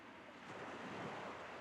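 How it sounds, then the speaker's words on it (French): Ocean waves wash and surge in a steady broadband roar with a soft swell in the middle, heard alone with no voices, from a Miffy cartoon scene. "le bruit des vagues augmenta"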